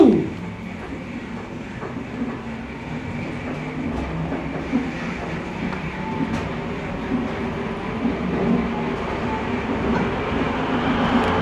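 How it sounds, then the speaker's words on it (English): An airport terminal people-mover train pulling away toward Terminal 3, a loud start followed by rumbling wheels, rail clatter and rising motion noise as it gathers speed. "The train is departing to Terminal 3 at the Sheraton Gateway Hotel."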